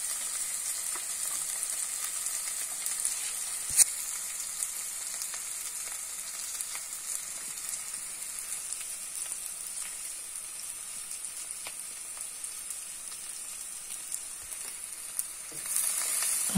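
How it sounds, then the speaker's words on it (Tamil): Five cut garlic cloves frying in a pan, a steady bright sizzle holding evenly throughout, with a few faint clicks and stirs near the end. "நல்லா வதக்கி விடுங்க. கட் பண்ணி வச்ச பூண்டு பல்லு 5 சேர்த்திடலாங்க."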